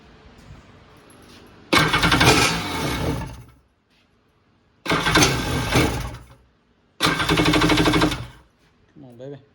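A Kawasaki X2 jet ski engine cranks in three loud bursts, each a few seconds long, with quiet gaps between them and a brief voice at the end.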